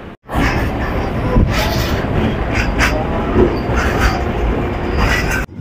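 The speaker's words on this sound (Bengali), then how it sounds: "আর আমাদের ট্রেনটি এখন রিমাউন্ট রোড ছেড়ে দিল।" A Kolkata local train rolls from Remount Road toward Khidirpur, giving a loud, steady rumble with wheel and carriage clatter heard from inside the coach, and a faint voice in the background.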